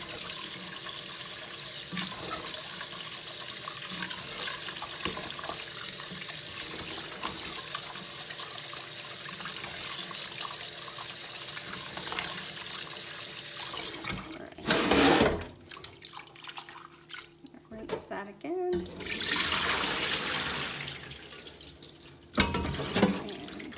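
Hominy corn being rinsed and scrubbed by hand in a sink, with steady running tap water and splashing throughout, then louder bursts of water and sloshing near the end.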